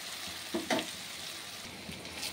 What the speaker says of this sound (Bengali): এবার এটা আমি ভালো করে সুন্দর করে একটু লাল করে ভেজে নেব পেঁয়াজটাকে আর টমেটোটাকে